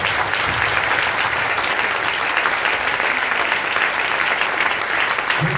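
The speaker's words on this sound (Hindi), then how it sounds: "परमेश्वर के प्रेम के लिए तालियां बनती है मेरे अजीजों।" A church audience claps loudly and continuously, a thick wash of hands that holds steady throughout, with no voice standing out above it.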